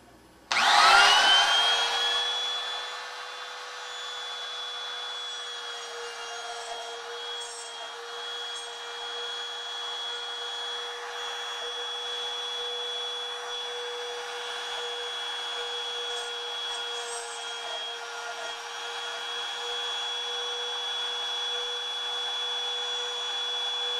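A woodworking router with its bit set in a plastic butterfly-inlay template starts up with a sharp burst, then runs at a steady, high-pitched whine that holds for the rest of the stretch.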